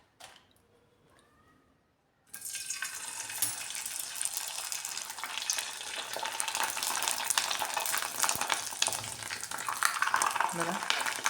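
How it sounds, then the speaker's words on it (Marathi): Sago and potato papads for fasting drop into hot oil on a gas stove, opening with near silence before a sudden loud, dense sizzle that bubbles and roars steadily for the rest of the clip. "आता आपण ह्या पापड्या तळून पाहूया."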